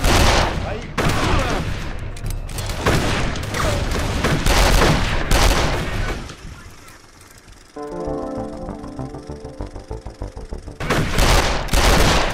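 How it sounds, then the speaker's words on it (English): Mauser C96 broomhandle pistol fired on full automatic in Darkest of Days, loud, close rattling bursts of rapid shots, a pause with a softer clatter and tonal effects, then another burst at the end. "Yes, the Mauser C96. The broom handle."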